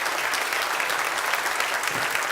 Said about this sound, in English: So let's give our football team and Bubba a round of applause.